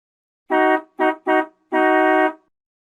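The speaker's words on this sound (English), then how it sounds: "Honk." A car horn honks four times in quick bursts, the last one held longer, loud and close with nothing else around.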